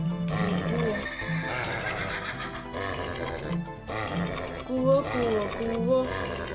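A horse in the Minecraft video game neighs amid game music and other sounds, with a tonal whinny standing out briefly near the middle and again toward the end.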